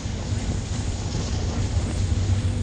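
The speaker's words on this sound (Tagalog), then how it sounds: "Grabe dito, lakas ng hangin." Strong wind blows in a continuous roar, buffeting the microphone with a dense, low rumble throughout.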